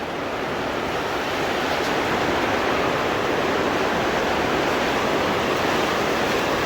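Heavy rain roars steadily on a greenhouse roof overhead, heard from inside, a dense, unbroken hiss with no gaps, loud and close throughout.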